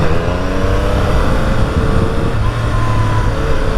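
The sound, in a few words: Triumph Speed Triple motorcycle engine running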